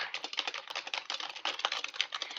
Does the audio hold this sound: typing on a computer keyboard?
yes